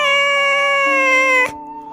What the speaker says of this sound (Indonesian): Mungkin kalian sering dengar suara kucing ini.